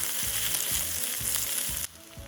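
Onions sizzle and fry softly in a pan, a steady crackling hiss with a few stirring scrapes, close and quiet, then easing off near the end.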